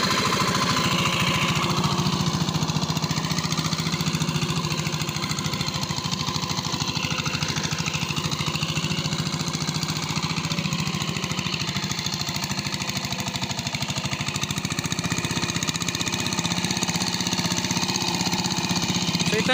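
A farm machine engine works a rice paddy before planting, with a loud, continuous, rapid hammering chug that stays steady and close throughout and no pauses.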